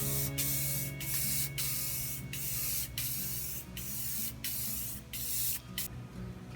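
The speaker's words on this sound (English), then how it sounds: "I'll start off with a few light coats of this Krylon clear gloss" Krylon clear gloss aerosol spray is applied in light coats to a wooden weathervane clock, a steady close hiss broken into about a dozen short bursts with brief pauses between them.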